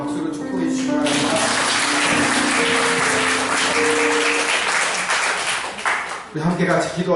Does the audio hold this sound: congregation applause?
yes